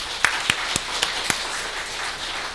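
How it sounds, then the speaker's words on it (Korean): A church congregation claps together in five crisp, evenly spaced beats before settling into a soft, diffuse wash of room noise, moderately loud and without speech. "하나님 앞에 영광의 박수 한 번만 다시 드리겠습니다."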